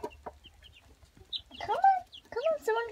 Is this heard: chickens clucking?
yes